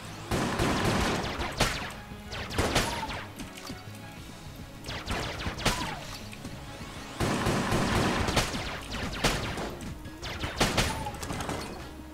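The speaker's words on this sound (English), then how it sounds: "Oh, that's a shotgun." Shotgun blasts and gunfire from the Enter the Gungeon video game, repeated loud bursts in irregular clusters over a continuous game soundtrack, close and dense.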